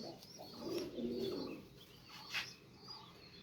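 Faint, close cooing from a female high-flyer pigeon, a couple of low soft coos with light chirps and rustling around it, no talking.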